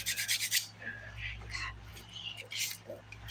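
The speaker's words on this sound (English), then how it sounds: "I'm using the 180 grit side of this file" A 180 grit nail file shapes a dip powder nail in quick, close, scratchy rasping strokes, a rapid run of them first and then short bursts, with soft speech in between.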